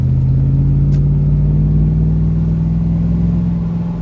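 Buick Rainier engine idling and revving through a custom Flowmaster exhaust with the resonator retained, a steady loud low rumble with a strong droning tone, close and alone.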